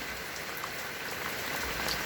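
Steady rain falls over a rural Thai home, a dense, even hiss of drops with no break and no voices.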